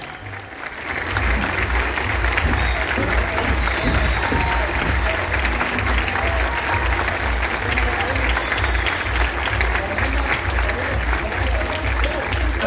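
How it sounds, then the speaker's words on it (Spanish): Sustained applause from a large audience for dancers at an anniversary celebration, a dense, even roar of clapping rising within the first second and holding strong throughout. "un fuerte aplauso a los bailarines"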